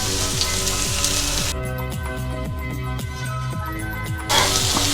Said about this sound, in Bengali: এখন আমি পেঁয়াজগুলি একটু সরিষার তেলে ভেজে নিব।